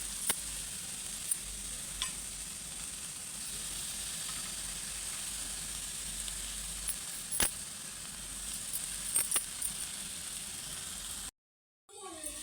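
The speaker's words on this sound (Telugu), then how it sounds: "ఇందులోనే టమాటా వేయించుకుందాం" Tomatoes sizzle steadily in a hot pan during paneer masala gravy prep, a continuous frying hiss with a few sharp crackles and pops, ending in a brief silence.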